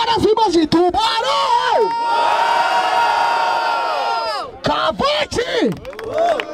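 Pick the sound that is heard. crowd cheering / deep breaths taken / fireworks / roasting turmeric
crowd cheering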